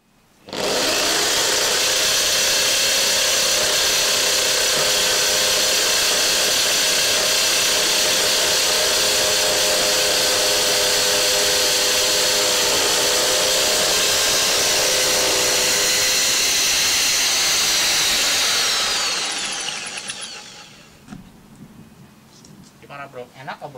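A loud, steady high-pitched drilling whine from a Doliz BA670 electric impact drill boring into concrete runs continuously for about twenty seconds, then stops, leaving quieter background noise.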